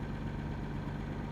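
A fire truck engine idles nearby in the morning, a steady low rumble with a constant hum and no pauses.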